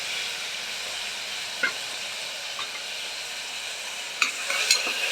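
Onions with ginger garlic paste sauté in a pan for a mutton white gravy, a soft steady sizzle with a few light stirring scrapes and clinks, fairly quiet and with no talk.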